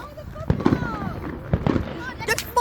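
Fireworks explode in the background with two clusters of booming cracks, rising whistles streaking between them and a faint crackle near the end.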